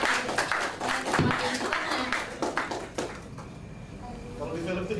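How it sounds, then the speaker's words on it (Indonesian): An audience at an Indonesian panel event on dangdut music applauds, a dense burst of clapping from many hands that gradually thins out and fades, with voices talking over it. "sebaiknya kita tepuk tangan dulu untuk Bung Andrew."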